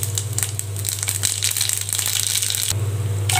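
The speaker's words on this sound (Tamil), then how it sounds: "கடுகு உளுந்தம்பருப்பு போட்டுக்கலாம்." Mustard seeds and urad dal dropped into hot oil in a kadai, a steady crackling sizzle with dense popping bursts, close and fairly loud, no talk.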